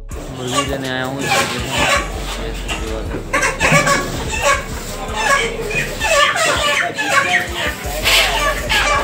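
Chickens clucking at a poultry seller's shop, busy repeated clucks and squawks close by, mixed with steady talk from people and other bustle throughout.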